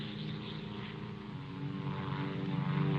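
Propeller-driven military airplane flying overhead in a 1953 wartime film, a steady droning engine hum that grows gradually louder as it nears, heard alone without talk.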